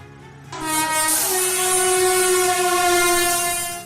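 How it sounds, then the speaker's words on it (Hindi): A Hazarduari Express train engine blares a long, loud horn as it rushes through a level crossing where a car is struck, the sustained tone steady and close over the rumble of the passing train. "हजारदुआरी एक्सप्रेस ट्रेन के इंजन ने रेलवे फाटक पर खड़ी कार को जोरदार टक्कर मारी।"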